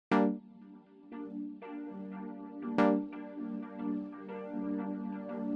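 A synth chord sounds soloed through a Convolution Reverb Pro send in Ableton Live, struck several times with bright attacks, each decaying into a long, washy reverb tail that stacks up between hits; there is no talk.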